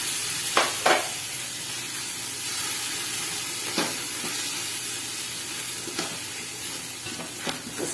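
Ginger-garlic paste fries in a pan with yogurt for a pahadi biryani, giving a steady close sizzle and hiss with a few brief scrapes and clinks of stirring, no voices.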